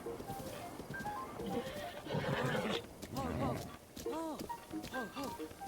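A horse whinnies repeatedly in Breath of the Wild, its wavering calls rising and falling over game sounds and clip-clopping hooves, with a voice talking underneath.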